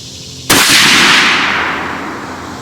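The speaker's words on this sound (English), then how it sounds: "Now let's go one more shot." A single sharp, loud SIG Cross rifle shot fired during an accuracy test cracks out about half a second in, then rings and decays slowly across the remaining two seconds, with no voices.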